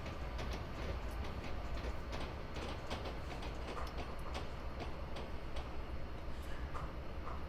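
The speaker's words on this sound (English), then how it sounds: "there's another train going by, look at that" A train rolling past in a railroad video game set on Cajon Pass, steady loud rumble with rhythmic clickety-clack wheel beats throughout, no voices.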